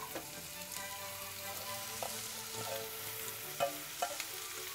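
Steady crackling sizzle of onions frying in plenty of butter, with occasional louder pops and a soft stirring clatter, close and continuous.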